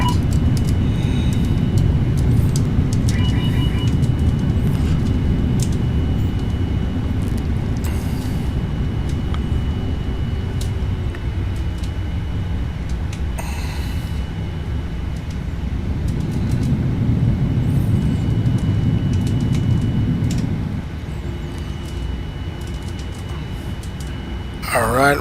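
Steady loud roar of a QualityWings 787-10's thrust reversers during the landing rollout in the Prepar3D flight simulator, a continuous broadband rumble that eases off near the end.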